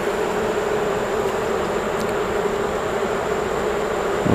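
A steady, dense buzz of many honey bees at a hive, droning continuously throughout, close and fairly loud, with no voices.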